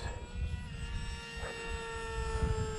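A HobbyZone AeroScout S radio-controlled plane with a pusher propeller flies overhead, its electric motor and prop giving off a steady, buzzing high-pitched whine with a faint rushing wind beneath.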